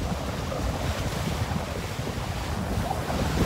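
Wind roars and waves crash continuously during Hurricane Michael, a dense, steady storm wash with gusty buffeting on the microphone and no voices.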